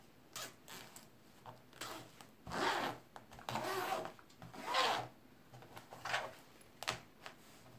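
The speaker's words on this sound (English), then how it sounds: "Make sure that my zipper works." A zipper on a handmade wallet is run open and closed several times, producing short rasping bursts of scraping teeth separated by brief pauses, close up and with no talking.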